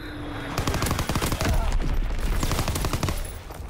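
Gunfire from a WWII video game naval primary battery, a dense burst of rapid overlapping shots and booms rolling continuously for several seconds at steady loudness.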